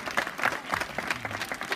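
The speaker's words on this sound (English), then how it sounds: "Give a hand of applause to the president." A crowd at a community celebration breaks into brief clapping for the president, a short burst of dense applause with some crowd murmur underneath.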